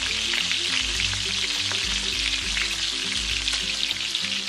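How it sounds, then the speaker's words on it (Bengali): Bottle gourd pieces fry in hot oil tempered with whole cumin seeds and two dry red chillies, a steady loud sizzle that carries on evenly for several seconds without talk. "ফোড়নটা একটু নাড়াচাড়া করে এর মধ্যে দিয়ে দেব কেটে রাখা লাউয়ের টুকরোগুলো।"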